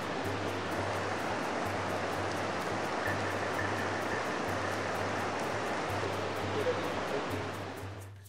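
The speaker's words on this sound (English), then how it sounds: "Clearwater Cave has a subterranean river." Subterranean river in Clearwater Cave, Mulu, rushing in a steady, loud broadband roar of flowing water that fills the space without pause, with a faint low hum running beneath.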